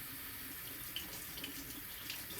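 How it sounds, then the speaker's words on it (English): Cold water runs steadily from a kitchen tap while potatoes are scrubbed, a close, continuous splashing hiss with small clinks and shifts in the flow. "Cold water."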